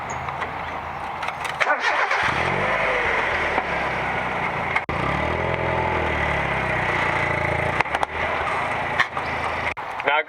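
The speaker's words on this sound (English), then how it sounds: "as you can tell, exhaust is pretty quiet." A stock exhaust on a 1995 Mazda Miata idles steadily and quietly after a brief rev, a low continuous engine rumble with a few clicks and handling noises around it.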